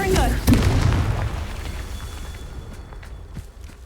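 Confringo spell explosion in the Hogwarts Legacy video game, a sharp boom near the start that decays into a fading rumble, with faint footsteps and a voice present under it.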